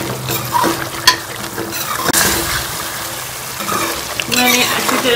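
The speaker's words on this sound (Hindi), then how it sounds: "मैंने अच्छी तरह से जो है वो भून लिया गोश्त को।" Beef karahi in the Peshawari Shinwari style, cooked with green chilies, sizzles steadily as it is stir-fried in the pan, with a constant loud frying hiss and occasional scrapes and clatter from stirring.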